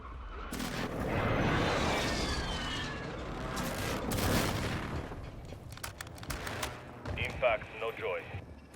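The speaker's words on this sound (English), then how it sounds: "Hostile airstrike incoming." Airstrike in Call of Duty Warzone 2: a heavy rolling barrage of booming impacts swells and fades over several seconds, followed by sharper scattered cracks and radio-style chatter.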